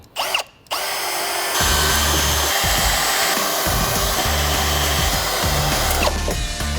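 A power drill drives a screw into a fiberglass fender flare, whining steadily for about five seconds after a brief start-stop, loud and close with no talking.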